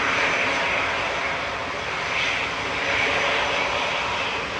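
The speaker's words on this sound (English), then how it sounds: "Lufthansa departing to Munich now, flight 2505 DAIJN." A Lufthansa airliner bound for Munich departs Manchester Airport, its engines giving a steady, loud broadband roar that swells slightly and holds throughout, with no voices.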